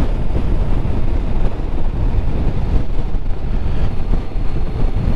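A Suzuki GSX-S1000 GT motorcycle rides along a country road near Willingham Woods, its engine a low steady drone buried under heavy, constant wind rush throughout.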